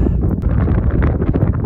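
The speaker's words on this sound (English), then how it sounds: "Little windy" Strong wind buffeting a microphone on a mountain ridge scramble, a dense low rumble with gusty fluctuations, close and loud with no speech.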